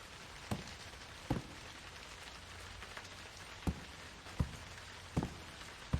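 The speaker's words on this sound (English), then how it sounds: "This rain is really cool." Rain falls steadily in the Dread Neighbor video game, a soft continuous patter broken by several sharp louder drips or taps at irregular intervals, with no talk.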